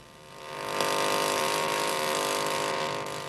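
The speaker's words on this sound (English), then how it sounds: "A diamond drill is used to obtain cores of lava." A steady mechanical whine and grinding hum of a diamond drill coring lava rock, running continuously, rising in level after a moment and holding throughout.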